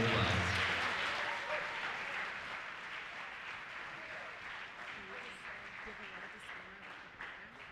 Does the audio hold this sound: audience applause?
yes